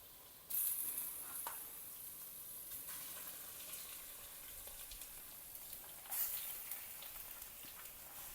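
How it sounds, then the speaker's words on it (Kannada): Washed chicken pieces drop into a pan of deep-fried onions and hot oil, giving a burst of sizzling that settles into a steady fry, with a second surge of sizzle partway through and no talking. "ನೀಟಾಗಿ ತೊಳೆದಿಟ್ಕೊಂಡಿರೋಂಥ ಚಿಕನನ್ನು ಇವಾಗ ಅದಕ್ಕೆ ಹಾಕ್ಕೊತಾ ಇದ್ದಾರೆ."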